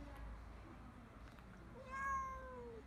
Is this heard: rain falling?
no